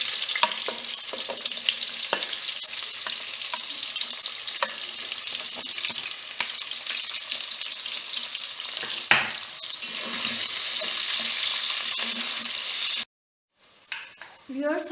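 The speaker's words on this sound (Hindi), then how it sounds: "प्याज डाल के इसको अच्छी तरीके से फ्राई" Onions frying in a hot pan for a bitter gourd and potato dish, a steady loud sizzle with occasional stirring scrapes, a brief silent gap near the end before a short burst of sound.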